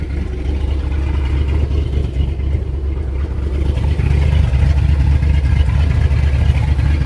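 Inboard engine of a 1985 Chris-Craft Scorpion 230 boat running at a fast idle just above 1,000 RPM, a steady, loud, low rumbling drone throughout, close up, with no talking.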